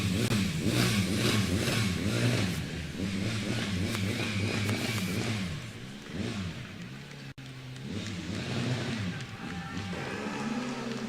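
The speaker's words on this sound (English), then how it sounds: "Celebration revs, that's maybe the right word, from the Karlsruhe car." Karlsruhe's Formula Student race car revs its engine in celebration at a Formula Student Germany 2023 acceleration event. Rising and falling revs repeat steadily for about eleven seconds, heard from a moderate distance and fairly faint.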